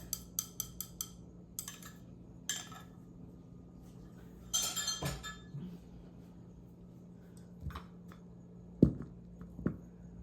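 Bagel dough being mixed in a bowl after the yeast mixture goes in: quiet spells broken by clinks and scrapes of a utensil against the bowl, a quick run of taps at the start and sharper knocks later.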